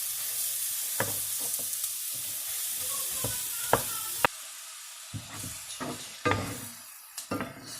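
Chili meat sizzles in a pan as a spoon breaks it apart, loud hissing frying punctuated by sharp scraping knocks, then the sizzle drops away and returns in short stirred bursts.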